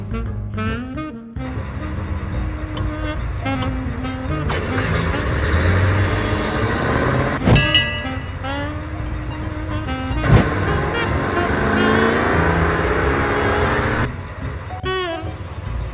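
A taxi cab drives along in the Leisure Suit Larry video game, a steady mid-level engine drone with a few sharp knocks and clicks, under intermittent voices.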